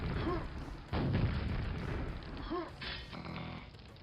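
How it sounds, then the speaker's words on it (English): Rocket launcher blasts in Quake: several booming explosions with short rumbling tails, one large hit followed by smaller ones, over a mechanical game hum and a faint voice. "the rocket launcher blowing shit up"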